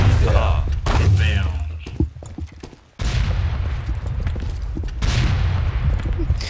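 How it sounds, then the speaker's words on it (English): Blue grenades on short fuses explode in the video game Team Rush, with loud booms and bursts of gunfire mixed in. People talk over the blasts. "these fuses for the blue grenades are so short"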